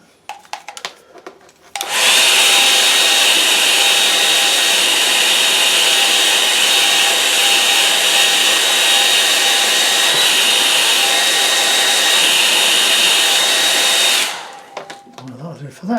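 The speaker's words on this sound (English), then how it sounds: "let's get the hairdryer on that" After a moment of quiet handling noises, a hair dryer switches on and blows with a steady, loud whoosh for about twelve seconds, then cuts off.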